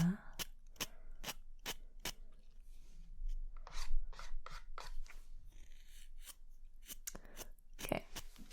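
Light scraping and dabbing at the eyelashes during an ASMR lash lift, a run of sharp, close, crisp little strokes, some in quick succession, set against a quiet background.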